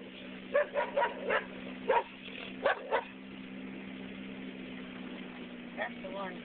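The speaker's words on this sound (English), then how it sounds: "There's that little dog." A small dog barks in a quick irregular burst of about eight yips, heard at moderate distance over a steady low engine hum inside a moving car, with people talking around it.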